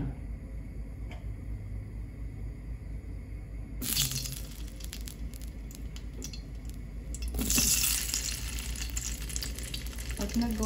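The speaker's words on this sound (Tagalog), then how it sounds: "sa mainit na kawali po, magpiprito muna tayo ng squid ball" Squid balls fry in a hot pan, giving a faint steady sizzle that flares into louder bursts of crackling spatter around the middle and again near the end.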